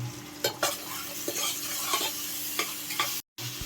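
Chilli and onion sizzle in hot oil in a pressure cooker, a steady close frying hiss punctuated by several sharp scrapes and knocks of a stirring spoon, with a brief dropout near the end and no talk.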